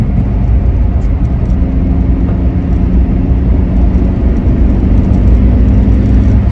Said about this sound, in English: We've got a wheel bearing gone on the passenger side rear, which you should probably be able to hear now.